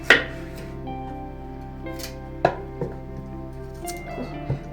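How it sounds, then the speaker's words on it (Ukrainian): A knife chops carrots into half-moon pieces on a cutting board in a few sharp, irregular strokes, close by, against a quiet steady background hum. "кусочками поріжу"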